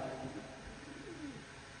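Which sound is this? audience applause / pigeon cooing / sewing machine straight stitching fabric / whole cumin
pigeon cooing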